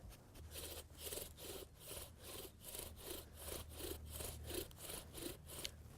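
A wooden bow drill spindle saws back and forth against a wooden fire board outdoors in nature, making steady rhythmic rasping strokes, about two per second, close and fairly quiet with no talking.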